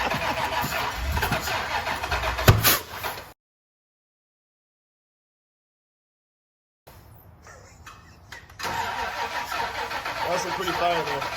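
A car engine is cranked over on starting fluid, a rough churning burst under speech that dies into silence before the cranking resumes, louder and steadier.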